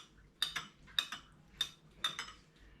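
A beef and pineapple stir fry mixture is stirred in a bowl with a spoon, giving four or five crisp clinks against the bowl in a loose, steady rhythm, quiet and close with no talk.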